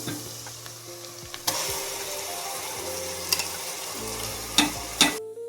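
Ginger, garlic and onion paste sizzles in a pan under a steady frying hiss, broken by a few sharp clanks and scrapes of a spoon stirring against the metal.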